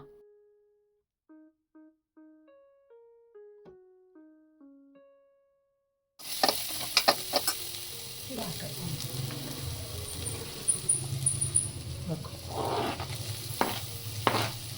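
Sheep intestine fries with ginger-garlic paste and chili powder in a pan, sizzling loudly while a utensil scrapes and stirs in irregular strokes, after a short melodic chime tune.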